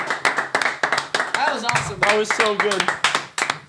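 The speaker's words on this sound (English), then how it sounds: "Oh, give him a round of applause." A small group clapping on a podcast, with sharp, distinct hand claps in quick succession, close and loud, while people talk and exclaim over them.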